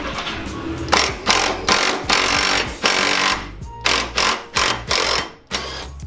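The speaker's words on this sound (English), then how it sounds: "As we undid that bolt" A ratchet clicks rapidly as a bolt on a BMW E30 rear subframe is undone, coming in a string of loud, close bursts of ratcheting separated by short gaps.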